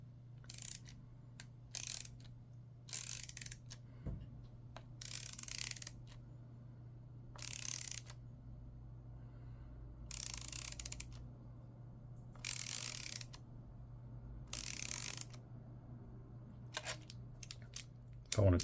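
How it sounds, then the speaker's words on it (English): Repeated bursts of clicking from a Wera Kraftform Kompakt ratcheting screwdriver as it loosens a high-quality bit, a dozen or so short ratchet runs at an uneven rhythm, close and fairly quiet over a steady low hum. "The ratcheting mechanism does feel really smooth."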